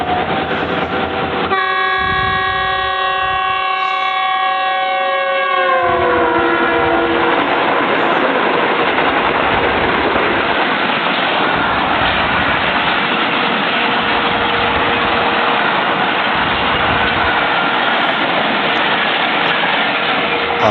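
Millat Express passenger train hauled by Pakistan-assembled locomotive 6142 sounds a long, loud multi-tone horn, then its wagons roll past close by with a sustained rumbling, clattering roar.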